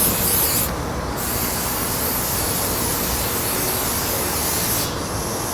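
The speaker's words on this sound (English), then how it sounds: "I have a bag of moss and a can of spray adhesive" A can of spray adhesive hisses in a loud, continuous burst onto a graveyard statue to hold moss, close up, briefly pausing near the start and again near the end.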